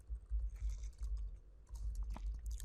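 Quiet typing on a computer keyboard while writing HTML list code, a faint run of soft, irregular key taps over a low background hum, with no voices.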